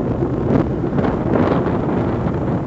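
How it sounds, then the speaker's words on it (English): Wind buffets a microphone outdoors beside a 2012 Ford Mustang 5.0, a loud continuous rumbling roar that swells and eases slightly without pause. "It is a bit windy"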